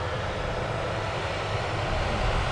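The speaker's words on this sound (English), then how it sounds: "So we have the 2E737 Max 8 now rolling on the runway." Boeing 737 Max 8 rolling down the runway at Manchester Airport, a steady broadband jet engine roar that holds at a constant loud level and swells slightly toward the end, with no voices.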